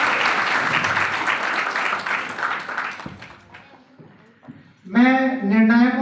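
A crowd at a school prize ceremony claps loudly for the winning girls' group, with a busy stretch of clapping first, a quieter gap, then a voice speaking over the audience.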